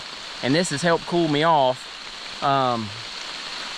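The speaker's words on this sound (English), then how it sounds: "the rain picked up pretty significantly there for a short period of time" Rain falls steadily on a hiking trail on West Prong Trail, a broad hiss under someone talking in two short bursts.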